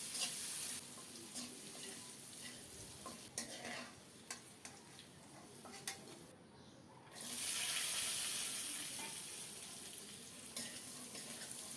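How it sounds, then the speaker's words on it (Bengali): Raw green banana frying in oil with salt and turmeric, a continuous soft hiss of sizzling with scattered stirring clicks, swelling louder and brighter near the end. "তেলে সামান্য একটু লবণ হলুদ দিয়ে কাঁচকলাটা প্রথমেই ভেজে নেব লাল লাল করে"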